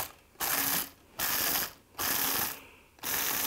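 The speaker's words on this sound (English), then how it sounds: "Take your Wakit Grinder, place it over the top of your chips." A Wakit grinder pulsed over chips gives four short bursts of broadband grinding noise, each under a second, separated by brief pauses; close and loud with no speech.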